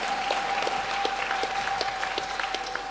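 A church congregation applauding during a French-language deliverance service, steady crowd clapping with a few sharper claps standing out and a faint sustained tone running beneath.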